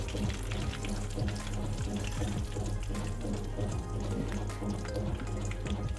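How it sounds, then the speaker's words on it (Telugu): Mustard seeds, cumin and dals crackling in hot oil as a tempering for drumstick pickle, giving a loud, continuous sizzle thick with rapid little pops. "చూస్తున్నారు కదా చిటపటం అంటుంది. మీకు సౌండ్ వినపడుతుందా?"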